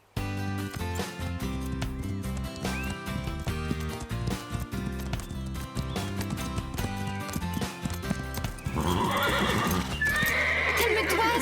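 Cartoon horses neigh and whinny over a busy music score, with steady hoof clip-clops running throughout and a louder burst of activity near the end.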